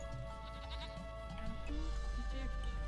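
Several goats bleat in short, overlapping calls in Age of Empires 2, low in level under a busy game soundscape and background music.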